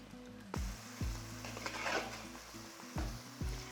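Mutton biryani being stirred in a wide pot, with a spoon scraping and thudding against the metal in repeated strokes over a soft, steady sizzle.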